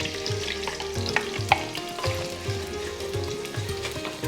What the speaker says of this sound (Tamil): இப்போது இந்த வெங்காயத்தை இதில் போட்டுக்கலாம்.